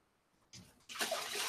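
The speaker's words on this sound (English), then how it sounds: "But the tank that's making the most noise needs water first." Water pours into a noisy tank, starting as a soft trickle and swelling into a louder steady rush within about a second.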